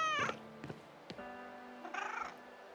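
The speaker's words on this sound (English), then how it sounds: "Oh, we got a cat. Can we pet the cat?" A cat in the Broken Roads video game, set in post-apocalyptic Australia, gives a few short, close meows with brief pauses between them, clear over a quiet background.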